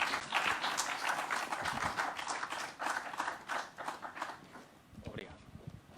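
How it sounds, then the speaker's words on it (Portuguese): Clapping for a speaker at a lecture on the pandemic's psychosocial effects, a fairly sparse round of hands from a modest audience that thins out and fades, with some voices and shuffling near the end. "Uma salva de palmas."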